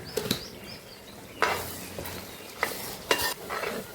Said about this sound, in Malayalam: മഞ്ഞൾപ്പൊടിയോടെ ഇത് നല്ല ഒത്തിരി മൂത്ത് വരട്ടെ.